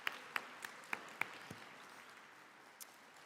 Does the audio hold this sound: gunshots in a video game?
no